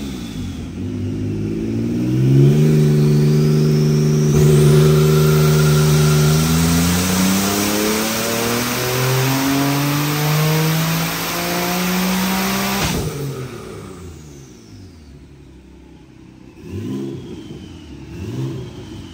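Nissan 370Z tuned past 1000 wheel horsepower with velocity stacks, revved on a dyno with nitrous, a loud, close engine climbing through rising pitch sweeps to a sustained high scream, then cutting off and winding down with a few short revs.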